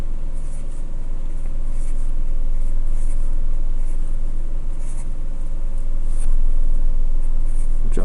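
Marker or pencil drawing tens and ones on paper during a math lesson on adding 47 and 26, a steady close scratching that runs continuously over a low background hum.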